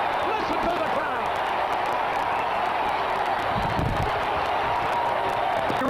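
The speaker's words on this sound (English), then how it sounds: "Listen to the crowd." Baseball stadium crowd roaring during a 1970s game as runners slide in safe, a dense continuous wall of cheering that holds steady and loud throughout, with a few faint bumps beneath.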